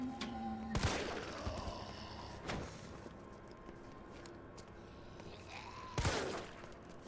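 Gunshots in Resident Evil 3 Remake, three sharp, widely spaced reports over a low, quiet game ambience with faint tonal effects between them.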